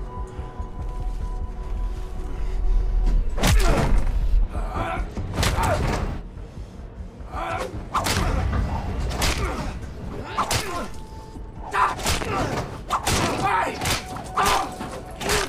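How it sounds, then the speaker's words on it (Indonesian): Heavy thuds and whip-like swishes from a rope beating a person in a film fight scene, several sharp blows spaced a second or two apart over a rumbling, tense soundtrack. "Bruno mengambil salah satu tali pengikat untuk memukul Atami"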